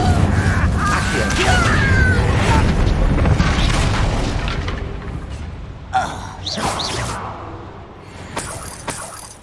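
Descendo spell cast in the Hogwarts Legacy video game: a loud booming, mechanical crash with shattering debris, then softer thuds and bursts of impact that trail off, layered over game sound.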